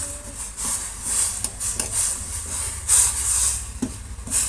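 Broken noodles being stirred in a pan, a steady scraping and sizzling hiss with soft rubbing strokes at an irregular pace, close and fairly loud with no voices.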